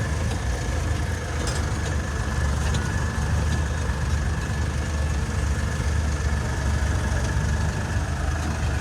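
Tractors idle steadily through the whole stretch, a continuous low engine rumble at an outdoor riverbank work site at Dera Baba Nanak, with no voices over it.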